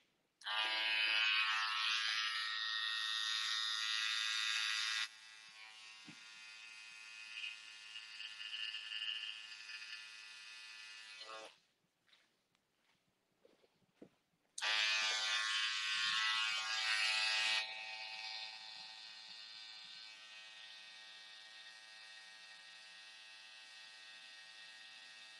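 A cordless hair detailer trimmer fitted with a T blade buzzes loudly in a high, steady electric whine, cutting in bursts with quieter stretches and a short silent gap, then starting up again at full strength.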